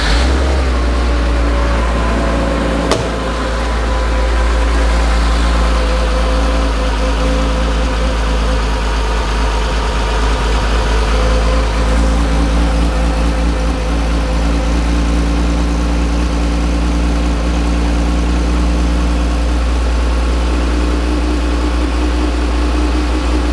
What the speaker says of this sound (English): So now it's time to start the car up